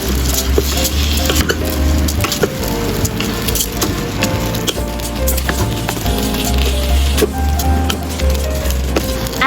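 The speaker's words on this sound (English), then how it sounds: "Add rice and stir fry." Rice stir-fried in a pan for turmeric sardine rice: steady loud sizzling with a utensil scraping and clinking against the pan throughout, no talk.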